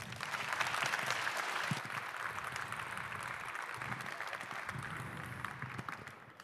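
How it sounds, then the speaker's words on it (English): A conference audience at the 34C3 hacker congress gives steady, full-room applause to welcome a speaker, continuous and fairly loud from start to finish with a slight fade at the end. "Please give him a warm round of applause."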